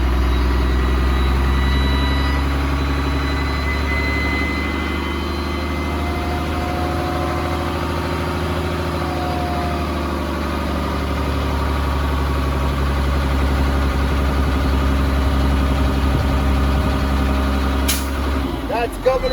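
A heavy truck engine idles and revs steadily toward its governor cutoff during a commercial-vehicle pre-trip check, a deep continuous rumble that stays loud and near throughout, ending with a short air-release hiss.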